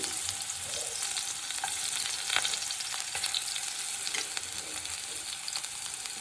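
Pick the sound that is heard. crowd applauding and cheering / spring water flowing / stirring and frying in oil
stirring and frying in oil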